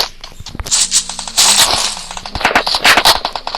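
A newly acquired gun fires loudly in rapid, uneven bursts of sharp, cracking shots close up, with brief gaps between volleys.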